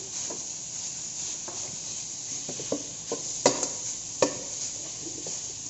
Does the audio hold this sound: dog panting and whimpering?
no